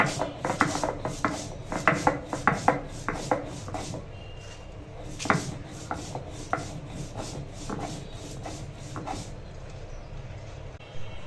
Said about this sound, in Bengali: শুকনো মরিচ দিয়েছি, লবণ, এখন বেটে নেব।